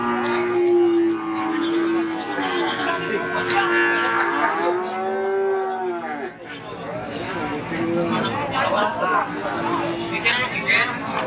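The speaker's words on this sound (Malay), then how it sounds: "Nah, seperti ini sapi-sapinya, sapi bibitan jantan." Young bulls at a cattle market in Jaken, several long low moos rising and falling up close, repeated over a busy background of crowd chatter and talk.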